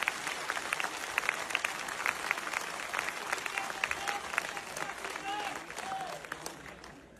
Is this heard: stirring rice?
no